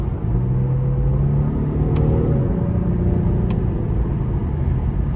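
A 2015 Infiniti Q50 Sport with a 3.7 V6 accelerating while paddle-shifting, heard from inside as a steady loud engine drone and road rumble, with a brief break in pitch at each quick gear change.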